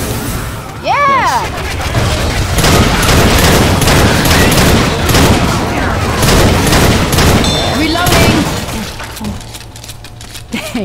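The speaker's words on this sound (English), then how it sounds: "Assault rifle." Assault rifle fire in the video game Diescraper Redux sounds as loud sustained rapid bursts mixed with impacts and breaking noises. People talk over the din, which fades near the end.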